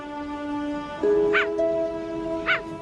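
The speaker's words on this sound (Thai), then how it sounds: "พวกมันเห่า" Wild dogs on the African savanna give two short, sharp barking calls about a second apart, heard fairly close over a steady background of tonal hum and faint ambient noise.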